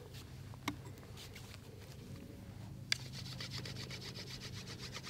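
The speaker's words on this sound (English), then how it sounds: "You can actually see the part you're burnishing." A wooden hunting arrow shaft being burnished, heard as faint, steady rubbing strokes in quick succession at close range, with a couple of small sharp clicks.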